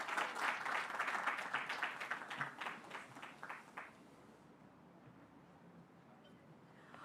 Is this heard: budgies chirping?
no